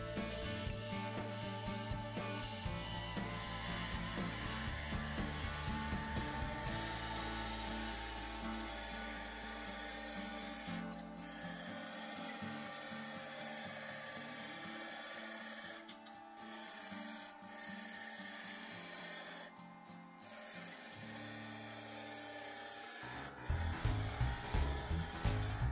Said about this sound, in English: I'm going to turn this from here down to a little under 1 1/4 inches.